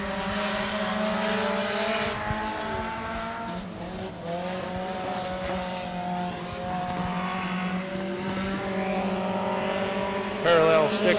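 Race cars circle the Penn Can Speedway track, their engine drone holding steady, loud and continuous, with pitch rising and falling as they pass. An announcer talks over it.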